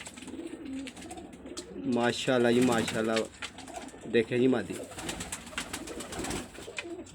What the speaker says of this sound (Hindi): मेरे बहुत प्यारा वाला कबूतर लग रहा है।